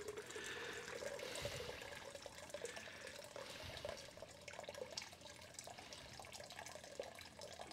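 Liquid for hibiscus tea pours and drains steadily, a continuous faint splashing and trickling flow with no pauses, heard alone at close range.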